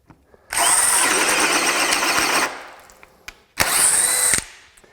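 A DEWALT 20V DCD1007 hammer drill runs at speed setting level 2, giving a loud, steady high whine for about two seconds, winding down, then a second, shorter burst close by.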